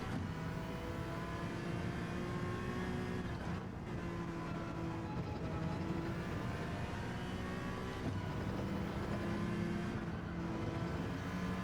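Honda NSX GT3 race car engine in the racing game Gran Turismo 7, a steady loud drone with shifting harmonic tones as revs rise and dip through corners, continuous throughout with brief lifts.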